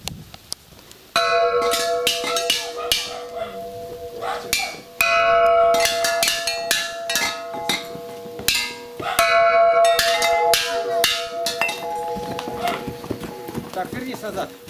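A bell rings repeatedly in sharp metallic strikes with long ringing tones, close and loud, in bursts across the clip, with voices and other background activity around it.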